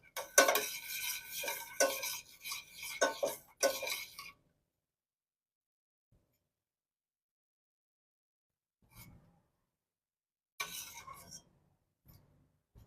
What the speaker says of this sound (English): It's bubbling. Stir until it thickens. I'm making a white sauce to go with my pasta.